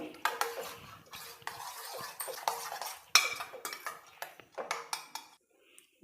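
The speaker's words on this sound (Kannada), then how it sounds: "ಇಷ್ಟೆಲ್ಲ ಹಾಕಿದ್ಮೇಲೆ ಚೆನ್ನಾಗಿ ಮಿಕ್ಸ್ ಮಾಡಬೇಕು" Egg beaten with chopped beans and onion is mixed in a bowl, with repeated quick clinks and scrapes of a spoon against the dish, close and fairly loud, in irregular bursts with short pauses.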